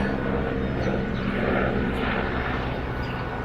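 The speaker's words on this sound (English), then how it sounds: "Helicopter going over." A helicopter passes overhead at Grantchester near Cambridge, a steady, fairly faint rotor and engine drone with a dense low rumble throughout.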